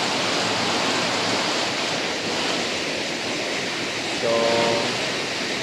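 A strong, rushing river surges in a steady broadband roar after heavy rain where a bridge has washed out, loud and continuous throughout with a brief faint tonal hum near the end.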